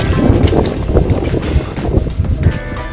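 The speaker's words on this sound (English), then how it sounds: "it's a bit windy" Loud, gusty wind buffets the microphone with constant low rumbling and irregular thumps, close and unbroken for the whole stretch.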